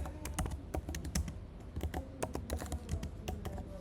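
Steady, rapid typing on a computer keyboard while HTML code is entered, crisp close key clicks in an even rhythm with no talking.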